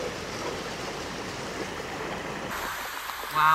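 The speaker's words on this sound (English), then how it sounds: "Just listening to the water running, I could sit here for hours and just listen to that." Treated water running steadily out of an in-ground filtering system outdoors, a continuous broadband rushing and trickling that stays even throughout, with a brief higher tone near the end.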